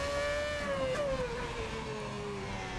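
An F1 race car engine at Monza in a racing video game, a sustained high whine that slowly falls in pitch as the car eases off, steady and loud over a rushing background.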